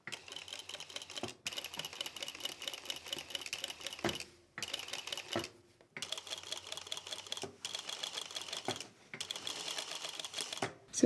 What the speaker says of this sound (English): this foot is used when you want to stitch in the seam and you don't want the stitch to show